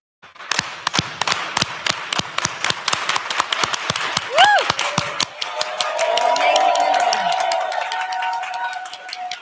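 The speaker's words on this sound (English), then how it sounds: "Does everyone know the solidarity clap?" A conference audience performs a solidarity clap: single, sharp unison claps that start slow and evenly spaced, then speed up into rapid clapping, followed by cheering, whoops and a swelling crowd roar.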